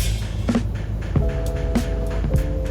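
Snow chains on a moving bus in snowy Tahoe winter weather, with repeated rhythmic clanks and slaps recurring about every half second to second over a steady engine and road rumble.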